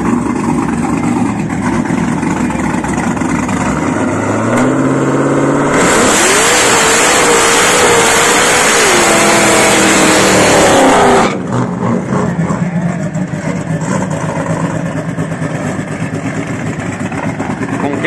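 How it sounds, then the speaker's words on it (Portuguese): Chevrolet Camaro drag race car, billed as Brazil's fastest, revs hard at a street drag event: a loud, close engine climbs and holds a high roar for several seconds, then drops back to a rumbling idle amid crowd noise. "Esse é o Camaro mais rápido do Brasil."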